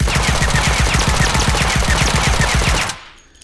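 Rapid, evenly spaced bursts of SMG fire with a small suppressor in the H3VR video game ring out loud and close for about three seconds, then stop and fade away.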